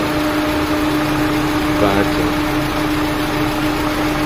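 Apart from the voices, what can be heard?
Peugeot 206 engine idling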